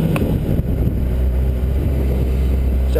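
A Honda CBR600RR sport motorcycle's engine drones steadily while riding, close and loud, with a low rumble and wind buffeting throughout.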